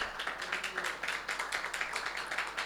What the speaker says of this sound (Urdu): یسوع مسیح کے لیے زوردار تالیاں بجائیں.